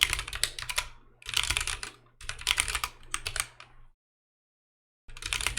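Quick clattering keystrokes on a computer keyboard during coding, close and steady in three bursts, then a second of silence before the typing resumes.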